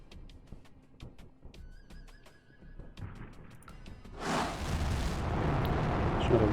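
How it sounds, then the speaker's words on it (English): A rocket launch in the video game Arms Race: The Cold War Era starts after a series of clicking interface beeps and swells into a loud, broad roaring rush that keeps building to the end. "Just got a rocket launch for him."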